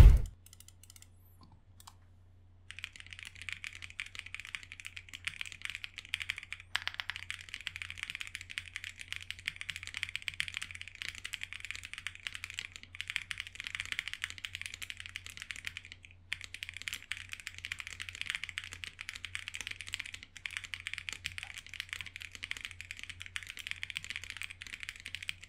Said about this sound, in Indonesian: kalian pasti penasaran kan sama suara dari keyboard yang bahannya full polikarbonat?